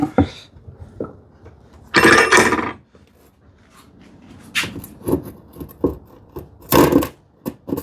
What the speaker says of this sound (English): I'll use my 10 TPI saw